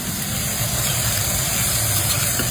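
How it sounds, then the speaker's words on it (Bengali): Salted eggplant fries in hot oil in a village kitchen, giving a steady, close sizzling hiss that holds evenly throughout with no talk. "এই যে একটু নুন দিয়ে বেগুনটা ভাজা ভাজা করে নিচ্ছি"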